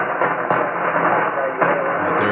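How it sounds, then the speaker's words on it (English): Steady broadband hiss of radio static from a Yaesu FT-891 ham radio receiver, continuous and fairly loud, with slight swells in level and no clear voice coming through. "You can't really hear him with the static"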